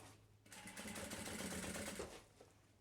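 A sewing machine stitching fabric for a thermal lunch bag with a 3D pocket runs in one steady close burst of about a second and a half, then stops, without talk.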